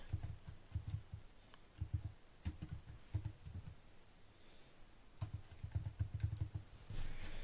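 Quiet, close typing on a computer keyboard, with short bursts of key clicks separated by brief pauses, entering text into a Figma fashion web app prototype.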